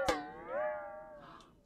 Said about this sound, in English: I'm going to tap it with my finger,